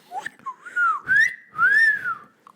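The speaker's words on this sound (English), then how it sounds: "Do you whistle breathing in or out?" A person whistles a short, clear tune of a few sliding notes, close and alone, with slight breathy onsets between phrases.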